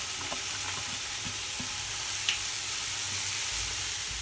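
French beans frying in a pan for vegetable pulav, a steady close sizzle with faint stirring scrapes, continuous and without speech.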